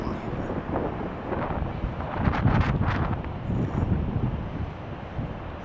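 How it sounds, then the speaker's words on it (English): Gusty wind buffets the microphone with a broad, rumbling roar that swells and fades, peaking in the middle, at Chicago O'Hare airport. "It's starting to get windy, that's for sure. You can kind of hear it."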